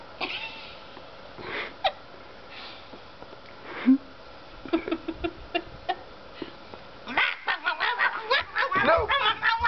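A woman imitates a chicken during a waxing session, giving a run of quick, choppy clucking and squawking calls near the mic after quieter rustling and brief voice sounds.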